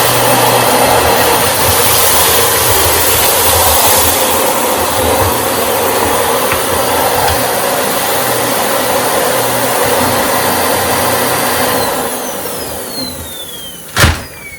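A 2009 Dyson DC25 All Floors bagless vacuum cleaner runs on a hard floor scattered with salt and rice, its brush roller off, giving a steady loud whining drone that winds down near the end, followed by a single sharp clunk.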